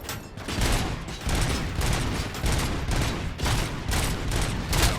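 Grenade explosions and gunfire in the game Robocop: Rogue City, a rapid barrage of loud bursts arriving in uneven clusters with little pause between them.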